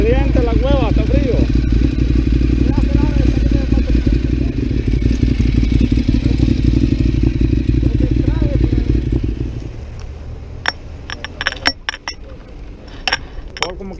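Motorcycle ridden through the rain, a loud steady engine drone filling most of the stretch before fading, then scattered sharp clinks and rattles near the end.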